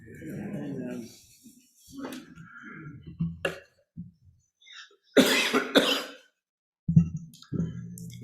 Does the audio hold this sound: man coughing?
yes